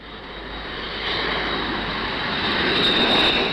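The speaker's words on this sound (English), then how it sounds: "Many other aircraft have been tried and proved, like the famous Trident." Jet engines of a Hawker Siddeley Trident airliner give a broad, steady roar that swells slightly louder over a few seconds, with no voices over it.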